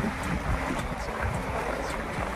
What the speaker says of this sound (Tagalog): Tapos napakalakas ng hangin.